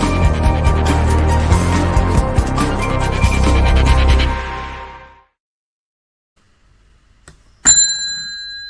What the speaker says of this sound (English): It's an actual bell. This is not a sound effect.